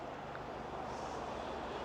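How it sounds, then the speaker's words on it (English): Faint, steady hum of distant road traffic near Ballykelly Forest, a low continuous rumble with no distinct passing vehicles or voices. "Oh, it's picking up traffic."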